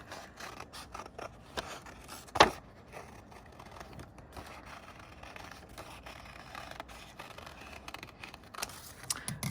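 Scissors snip through paper to cut out a heart shape for a kids' Valentine's craft, giving a close, soft scraping rasp with one sharper snip early on, quiet and without talk.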